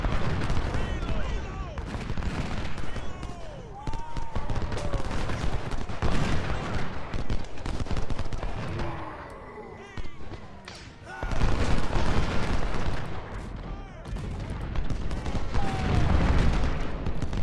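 Artillery and musket gunfire in the Civil War strategy game Ultimate General: Gettysburg-era 20-pounder guns at Chickamauga, with dense, continuous volleys and booms rolling throughout, swelling louder after a brief lull near the middle; speech is faintly present.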